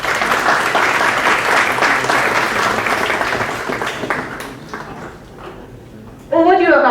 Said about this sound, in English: Please welcome Mr. Dayashankar Verma with a round of applause.